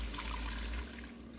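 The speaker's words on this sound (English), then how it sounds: "But I am going to pour this sauce in." Sauce pouring into a hot enameled cast iron Dutch oven for a chicken stew, a steady close liquid trickle and glug lasting about a second before tapering off.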